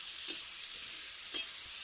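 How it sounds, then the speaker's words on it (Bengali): Potatoes, chopped tomato and green chili frying in a pan give a steady sizzle, with a few soft clicks from stirring. "এবার আমি এটা ভালো করে একটু ভাজা ভাজা করে দেব।"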